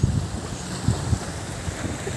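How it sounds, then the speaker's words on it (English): Wind buffets the microphone over lapping water, with a few low thumps as if a hull knocks against small waves. "There's a boat here."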